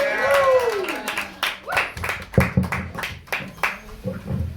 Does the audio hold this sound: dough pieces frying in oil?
no